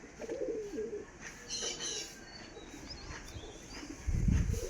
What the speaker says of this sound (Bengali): জিরিয়া ম্যাড্রাস কবুতর